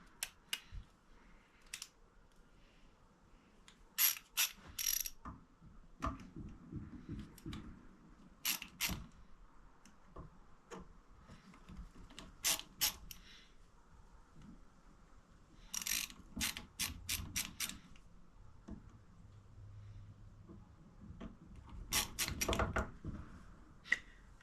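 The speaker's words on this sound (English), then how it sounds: "If you guys do not have one of these Milwaukee ratcheting screwdrivers, they are super nice for working on small stuff" Ratcheting clicks from a Milwaukee ratcheting screwdriver used on an old tiller, coming in quick bursts of sharp ticking separated by pauses, with some quieter handling noise and no talk.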